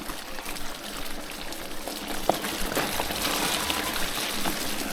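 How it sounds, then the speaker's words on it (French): A small stream flows beneath a bridge on a mountain-bike trail, a steady, fairly quiet babbling wash of water with no talk over it. "un beau petit pont bucolique, un petit ruisseau"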